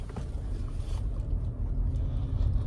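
A Toyota Camry hybrid with a 2400 cc engine revs, a steady low, dense engine roar throughout, close and fairly loud, with no speech.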